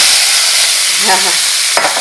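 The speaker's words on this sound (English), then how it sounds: "Check out that sizzle." A steady, loud sizzle of steak dropped into a preheated air fryer, continuous hiss with a brief clatter near the end.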